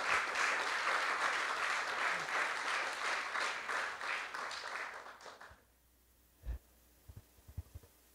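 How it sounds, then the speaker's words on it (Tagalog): Believers in a church congregation applaud together, a sustained crowd clapping for about five seconds that then dies out, leaving a few scattered thumps and handling noises in a quiet room. "Pumalakpak nga ang mga believer."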